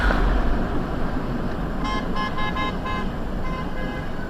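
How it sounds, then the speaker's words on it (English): Car horns toot in several short bursts over the steady rumble of passing traffic, moderately close. "Kids out here playing the honk game."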